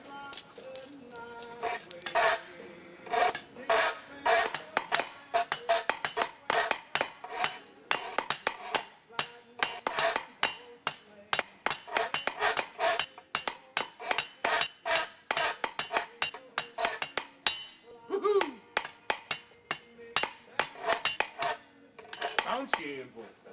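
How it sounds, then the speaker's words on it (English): Steel beaten cold on an anvil at a forge, a long run of bright, ringing metallic hammer strikes in quick rhythmic bursts with brief pauses, loud and close. "I'm gonna beat some steel right quick."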